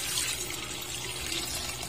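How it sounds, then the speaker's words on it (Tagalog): Water is poured into a pot for sotanghon soup, a steady rushing splash that stays even and close throughout the short moment. "Lagyan na natin siya ng tubig."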